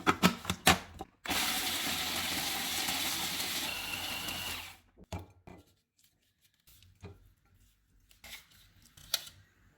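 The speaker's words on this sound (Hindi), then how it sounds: "चॉपर में हम अखरोट, पिस्ता, गोंद, बादाम, मखाने और काजू डालेंगे।" An electric kitchen chopper runs for a few seconds, grinding walnuts, pistachios, edible gum, almonds, makhana and cashews for panjiri, a loud steady whirring burst framed by short clatters and taps before and after.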